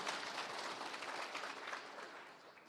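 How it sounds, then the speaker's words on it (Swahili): Audience applause at a county launch event for an office managers training program in Nyandarua, a steady broadband wash of clapping from a large crowd, fairly faint and continuous throughout without talk. "Tumpigie makofi tena."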